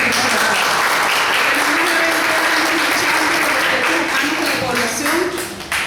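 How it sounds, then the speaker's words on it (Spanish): Dense, loud applause from an audience at a human rights talk, sustained and steady throughout with no break. "para la cual pido un aplauso igual que el defensor de derechos humanos"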